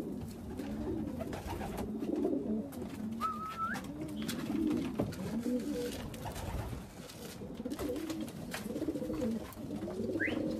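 Soft, rhythmic cooing from a long-distance racing pigeon repeats in steady rounds close by, with a faint chirp or two in the background and no talking.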